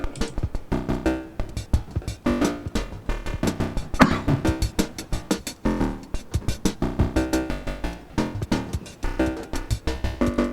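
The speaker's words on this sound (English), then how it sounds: "I've got another clock firing tiny pieces of this drum loop" Chopped drum loop fragments fire in a rapid, stuttering rhythm from a modular synthesizer, short percussive slices restarting at shifting points, dense and electronic with no voices.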